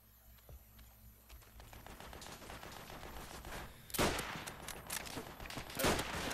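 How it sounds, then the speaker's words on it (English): Gunfire rattles in a Call of Duty: World at War multiplayer match, with a run of rapid shots that grows louder near the end, moderately close and with no talking. "I sniped somebody"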